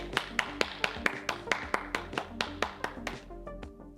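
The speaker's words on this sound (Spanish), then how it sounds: "Dale fuerte ese aplauso a Jesús." Church congregation at a Spanish-language Sunday service clapping in a steady rhythmic beat, each clap sharp and distinct and fairly loud, evenly spaced and quickening slightly toward the end.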